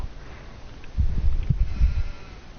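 A sheep in the video game Farming Simulator 19 bleats a few times in quick succession, fairly loud and close, over a quiet background.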